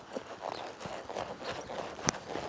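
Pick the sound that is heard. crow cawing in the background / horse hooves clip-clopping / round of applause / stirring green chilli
horse hooves clip-clopping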